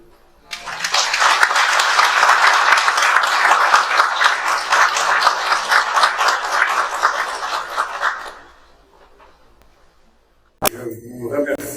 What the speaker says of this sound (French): on peut l'applaudir.